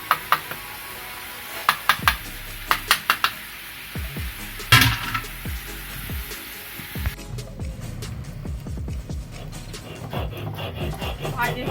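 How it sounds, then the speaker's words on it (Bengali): Cumin and mustard seeds being ground on a grinding stone, with repeated scraping and rubbing strokes and sharp knocks early on, then a steadier rasping grind; close and fairly quiet. "জিরা সরিষা বেটে নিচ্ছি"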